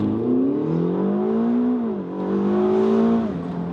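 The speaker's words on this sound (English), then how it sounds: "A little bit of a wheel spin there." A Ferrari California T with a 560 hp turbo V8 makes a launch control start with some wheel spin, the engine droning loud and close as its pitch climbs, dips briefly, then climbs again.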